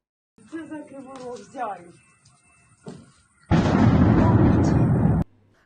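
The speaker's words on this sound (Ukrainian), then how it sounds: "Кривий ріг близько третьої ночі у місті лунають потужні вибухи." A loud, sustained blast roars for nearly two seconds after someone speaks, an explosion from a night-time drone attack on Kryvyi Rih.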